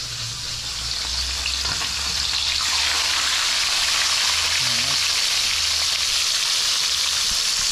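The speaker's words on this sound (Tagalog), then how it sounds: "At abang-abang lang pag naluto ang ating pirito." Matambaka fish frying in hot oil, a loud, dense, continuous sizzle and crackle that holds steady from start to finish, heard up close with a low hum underneath.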